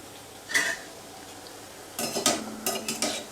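Sweet wheat-flour kapani roasts in a pan as a utensil scrapes and clinks against the metal, a single stroke followed by a cluster of quick stirring scrapes over a faint sizzle.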